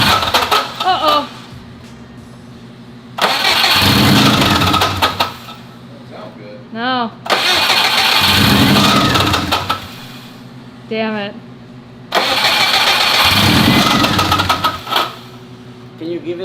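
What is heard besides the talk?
stolen car's engine cranking, failing to start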